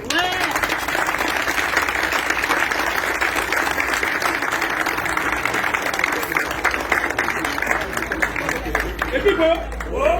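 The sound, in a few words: crowd applauding at a union general assembly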